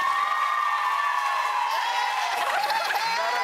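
Studio audience on a daytime talk show cheering and clapping, a steady wash of whoops and voices at even loudness, with scattered claps rising toward the end.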